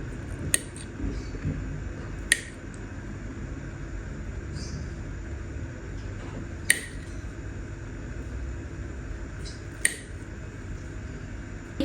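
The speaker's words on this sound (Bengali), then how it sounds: "তো ডিমটা কেটে নিই" Knife cutting through a boiled egg on a plate at breakfast, a few sharp clicks and taps spaced irregularly over a quiet, steady background.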